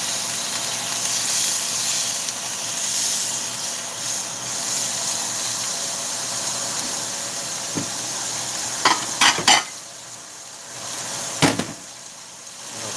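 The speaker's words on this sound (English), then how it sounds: "Stir off that side a little bit" Sauerbraten drippings stirred in a hot pot, a steady sizzling hiss with a few sharp scrapes and knocks of the utensil against the pot near the end.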